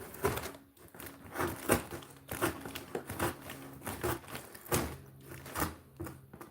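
A metal can is cut down with repeated crinkling, crunching snips in an uneven rhythm that run on close up throughout.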